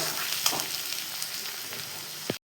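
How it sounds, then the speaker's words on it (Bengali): Food frying in a pan while being browned before spices go in, a steady close sizzle with a few stirring scrapes, ending in a brief cut to silence. "চলো লাল লাল করে এটা ভেজে নিই"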